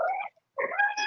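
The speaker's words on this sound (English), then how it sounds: "I hear bird. That's my cat." A pet cat gives two short, tonal meows separated by a brief silence, close by and clear with nothing else around.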